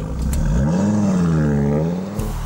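An Audi TT RS with its 2.5-litre five-cylinder turbo engine revs up in a steady rising growl, pitch climbing and holding then dropping off near the end, loud and close with no talk over it.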